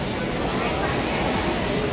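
A slow suburban local train heads toward Badlapur near Mumbai, filling the carriage with a steady, loud rumble and rattle of wheels on track, with no break in the noise.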